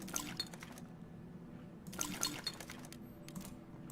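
Plants being watered in the war survival game This War of Mine: two short bursts of pouring, splashing water a couple of seconds apart, fairly close, with no talk.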